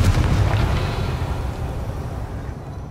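A Confringo fire-blast spell in Hogwarts Legacy bursts in a loud, close explosion, a heavy boom that rolls away into a long rumbling decay over three seconds, with no voices heard.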